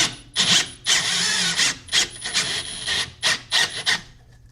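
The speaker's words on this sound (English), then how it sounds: "We're going to go ahead and drill it." Harsh rasping bursts of a 23mm Forstner bit drilling into a rifle foregrip, repeated in short strokes with brief pauses, close and fairly loud, no talking.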